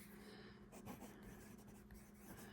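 A pencil from a multi pen scratches steadily across paper, a continuous close dry scraping with small strokes and a faint low hum behind it.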